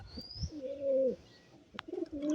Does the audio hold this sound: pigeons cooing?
yes